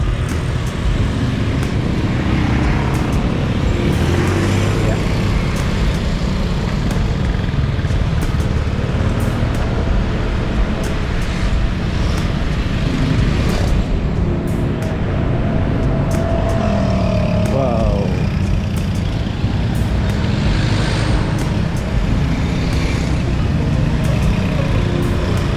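Steady, loud afternoon road traffic at a three-way junction, cars and trucks passing in a continuous roar with no break, heard up close from the roadside.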